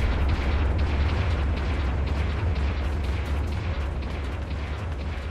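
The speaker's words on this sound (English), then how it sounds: "Long range supporting fire is a go." Rumbling long-range supporting fire explosions in the video game Gundam Battle Operation 2, a loud continuous barrage of deep booms and bursts running throughout with no talk.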